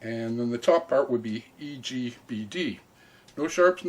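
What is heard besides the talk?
None of the usual background noises is heard.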